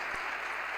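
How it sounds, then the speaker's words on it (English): A round of applause for the panelists after a hacker-licensing debate at the Rooted CON 2015 security conference, a short, steady wash of clapping from the audience at moderate level. "a round of applause to the participants, the panelists in this debate"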